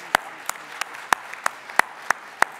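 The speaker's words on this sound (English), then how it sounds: "please give a big applause to the speaker from Kazakhstan, Kuspan Kasurolov." Audience at a trade union world congress plenary session applauding a speaker, heard as a sparse run of single sharp claps spaced evenly, close and distinct rather than a dense ovation.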